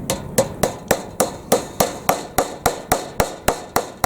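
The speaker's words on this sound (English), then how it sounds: "Then I take the hammer." A hammer drives a galvanized poultry staple into wire mesh with about fourteen sharp, evenly spaced strikes, each a loud, close metallic crack with a brief ring, and no voices.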